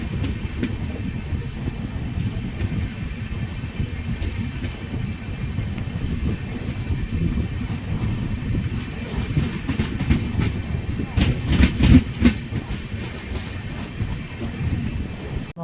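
The Hatia–Puri Tapaswini Express passenger train running on rails, heard from onboard as a loud continuous rumble with rhythmic wheel clatter and sharp rail clicks growing stronger toward the end.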